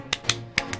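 Hand clapping, four quick sharp claps in uneven rhythm, close and fairly loud over a faint low background hum.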